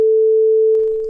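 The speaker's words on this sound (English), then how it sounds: "the graph of a sine wave is the representation of a sine-shaped audio wave" A pure, steady sine wave tone holds at one pitch, loud and unbroken for most of a second before it fades slightly at the end.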